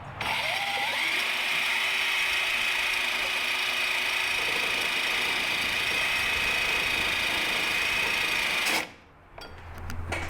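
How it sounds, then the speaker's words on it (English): A power drill fitted with a small wire wheel, spinning a power steering pump, whines steadily at high pitch with a grinding, rasping edge for several seconds, then cuts off abruptly near the end. "I'm gonna just use a drill with a little wire wheel and spin the pump."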